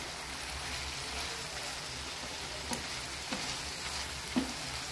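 Broad bean and tomato curry sizzles and fries steadily in a pan, a constant close hiss with a few faint stirring clicks and no talking.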